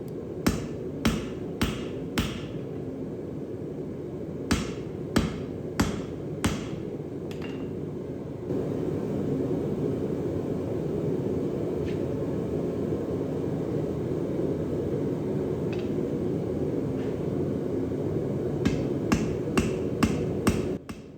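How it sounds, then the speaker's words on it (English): A cross peen hammer strikes hot steel on an anvil during forge welding of a cant hook, sharp ringing blows in quick bursts at the start and end over a steady background roar, likely from the forge. "So you might notice I'm using the pointy end of the hammer, the peen, the cross peen, and then the flat spot."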